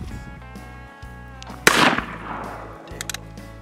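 A German-made Beeman air gun fires once with a sharp, close crack and a short fading tail, over steady background music, with faint clicks afterward.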